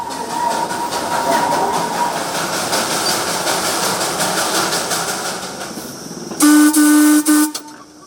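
A Darjeeling steam train rolls along with wheels clanking and a steady chuffing hiss from the funnel, then a loud, sustained steam whistle blasts twice near the end.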